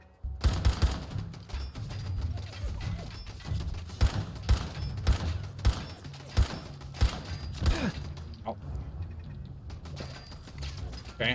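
Rapid automatic gunfire from the player's weapon in Fallout 4, loud and close, coming in regular sharp bursts with brief mechanical clacks between them and a quieter stretch near the end.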